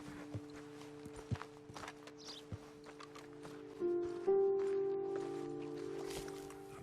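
In Red Dead Redemption 2, a few soft hoof clops and footsteps sound on open ground, spaced out and quiet, before a sustained tonal drone of background music swells in over the second half.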